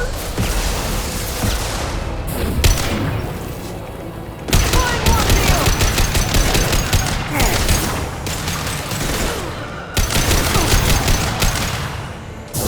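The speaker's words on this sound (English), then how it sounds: "Firing an impact shot!" Heavy automatic gunfire and impact shots from the video game Mass Effect 2 come in loud, dense bursts of rapid fire with booming hits, broken by short lulls.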